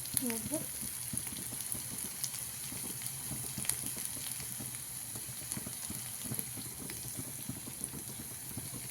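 Chopped coriander is stirred in a frying pan, a faint sizzle hissing beneath soft, irregular scraping and clinks from the spoon, all fairly quiet and close.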